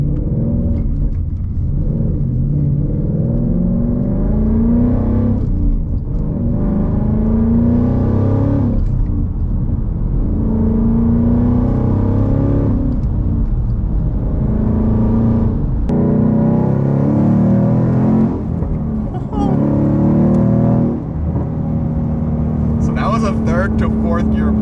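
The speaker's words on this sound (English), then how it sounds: "To fourth gear pull, and for third gear, this thing is so fast." A 675 hp supercharged Ford Mustang GT, rear-wheel drive, pulls hard through third and fourth gear: a loud, steady engine roar climbs in pitch, drops at each shift and climbs again, with someone talking over it.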